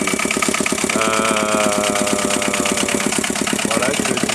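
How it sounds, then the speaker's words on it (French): An Aixam 400 microcar's small engine runs steadily at idle, with the variator spinning and a rapid, even mechanical chatter, loud and close throughout. "Le variateur tourne, il n'est pas censé tourner d'ailleurs, mais bon, pourquoi pas."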